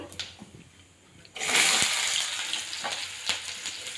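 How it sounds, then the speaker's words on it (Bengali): Cumin seeds sit quietly in oil, then chopped onion hits the pan and a loud sizzle bursts up, holding steady with light stirring knocks and scrapes as it slowly eases. "তেলে আমি দিয়ে দিচ্ছি গোটা জিরে আমি কাঁচা লঙ্কা বা শুকনো লঙ্কা এখন দিচ্ছি না এখন আমি দেবো পেঁয়াজ কুচি"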